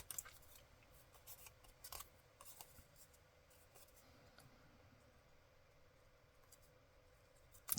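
Scissors cut paper scraps at a craft table. The faint, scattered snips and light rustles sound sparse and intermittent against quiet room tone.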